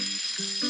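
Timer bell on a waffle iron in the cooking game Papa's Pancakeria 2, a bright steady electronic ringing with high tones. It holds for under a second and shifts pitch slightly partway through.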